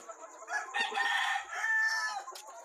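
Chickens on a poultry farm: a rooster crows loudly and close by over continuous clucking from the flock, with no talking.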